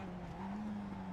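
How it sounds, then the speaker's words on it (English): A race car in the iRacing simulator spins out, its engine droning with a steady pitched tone as the tires squeal and skid briefly, close and continuous with no voices. "the number 1 car, he spins out"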